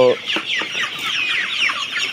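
Chickens cluck steadily and close by while pecking at fermented corn feed, a busy overlapping stream of short clucks and calls with no talking.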